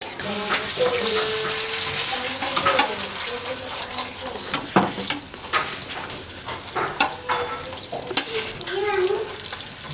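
Golgappa puris deep frying in hot oil give a steady, fairly loud sizzle throughout, with brief bubbling surges and a faint voice talking now and then underneath.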